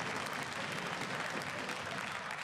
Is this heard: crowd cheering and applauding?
yes